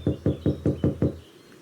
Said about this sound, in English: I raised my hand up and poured my knuckles to the door.